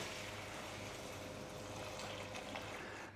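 Chicken stock pouring through a strainer into smaller bowls in a kitchen, a steady, loud liquid rush and trickle that runs without a break for the whole stretch.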